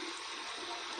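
Cold tap water runs steadily into a sink during a wet shave with a safety razor, a continuous close rushing stream with no talk.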